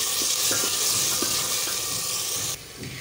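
Minced keema fries with spices and chili flakes in a hot pan, giving a loud, steady sizzle and hiss with occasional soft stirring scrapes, the sizzle dropping abruptly near the end.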